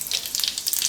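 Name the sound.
cumin seeds sizzling in hot oil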